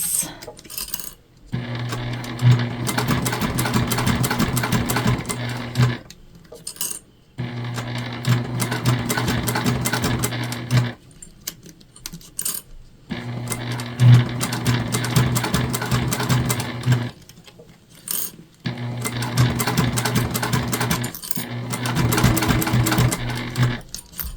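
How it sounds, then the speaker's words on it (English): A sewing machine back stitching the handle of a bag, running loud and close in four steady bursts of rapid mechanical whirring, each lasting a few seconds and separated by brief pauses. "we're going to come down and just do a little back stitch"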